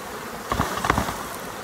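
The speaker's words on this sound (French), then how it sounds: "ici je prélève les abeilles sur le même rucher." Honeybees buzz close by at a hive in an apiary, a droning hum with a few louder passes as individual bees fly near.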